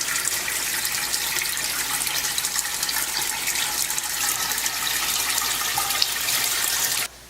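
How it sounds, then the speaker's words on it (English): Oil pours steadily out of a deep fryer as it drains, a continuous loud liquid gush and splatter that runs unbroken for about seven seconds and then cuts off abruptly. "After completely draining the fryer"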